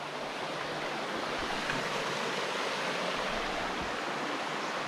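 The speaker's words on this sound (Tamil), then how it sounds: "தண்ணி சவுண்டு கேட்குதுல்ல?" Water pouring steadily at Nagalapuram Falls, a broad continuous rush of falling water heard close and even throughout, with no voices over it.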